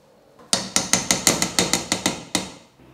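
A spoon stirring cooked rice in a cooking pot gives about a dozen sharp metallic clinks in a quick, fairly even rhythm, close and clear with no talk.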